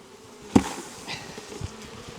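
Honeybees buzz in a steady, close drone while a container is banged down once with a sharp thud, after which the humming swarm continues, with a fainter knock later on.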